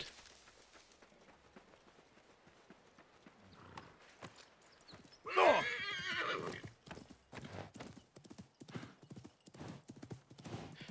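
Horse hooves clip-clop in a quick rhythm in the video game Assassin's Creed Mirage, and a horse whinnies partway through, heard over a quiet background.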